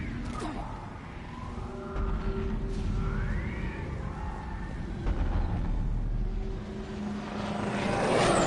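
A gunship aircraft in Mass Effect Legendary Edition drones with a whirring, propeller-like engine hum that swells and fades, layered with whooshing passes and game ambience, moderately loud and continuous.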